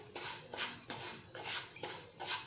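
Semolina roasting in hot ghee for mango sheera, stirred in a pan with four or five distinct scraping, clinking strokes at a slow steady rhythm, close and fairly quiet.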